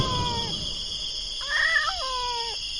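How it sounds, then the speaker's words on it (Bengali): An animated cat meows twice at night, the first call short and the second a longer, drawn-out cry, heard over a steady background hum. "একটা বেড়াল তার দিকে তাকিয়ে ম্যাও ম্যাও করছে"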